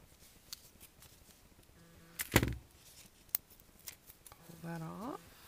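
Scissors snip as fabric is trimmed for a no-sew bow tie: a sharp close cut stands out among light taps and rustles, with a faint rising tone near the end and quiet handling throughout.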